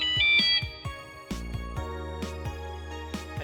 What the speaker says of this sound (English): It's a good thing I answered my cell phone